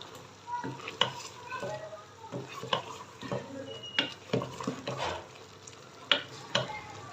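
Chicken feet frying in a pan with red chili powder over high heat, a steady sizzle broken by repeated spatula scrapes and knocks against the pan in an irregular rhythm, close up and without speech.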